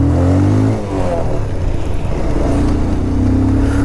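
A Bajaj Pulsar motorcycle engine runs close and loud with a steady droning hum whose pitch dips briefly and then climbs again.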